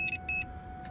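An electrical tester probe on the positive wire of a 1999 Ford F-250 V10 truck gives two short, high-pitched electronic beeps in quick succession over a faint steady hum, close and clear.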